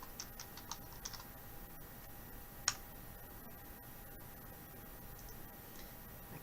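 Computer keyboard keys tapped in short, light bursts as a search topic is typed, soft and close in a quiet room with a single sharper click partway through.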